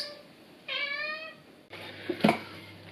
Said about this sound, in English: What is going on with you cats?